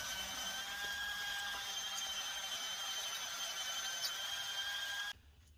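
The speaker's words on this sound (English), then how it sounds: "So this foam doesn't drill super easy." Power drill boring into a foam archery target, a steady high whirring whine held at moderate level for about five seconds before cutting off abruptly into quiet.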